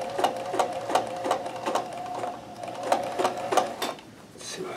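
A Kenmore 158.1914 sewing machine chain stitches thick thread, its needle thumping in a fast, steady rhythm with a continuous mechanical whir, close and clear.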